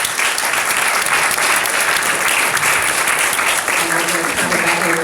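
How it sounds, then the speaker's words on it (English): At a 2018 candidate forum, an audience applauds the Senate candidates with dense, sustained clapping throughout, and a voice briefly rises over it near the end. "If you could give them a round of applause."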